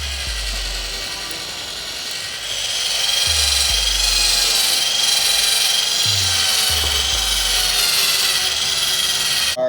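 A handheld power drill fitted with a buffing pad runs steadily while polishing scratches out of motorcycle paint, a continuous whirring buff with a few brief low thumps as the pad shifts, fairly close and alone without talk.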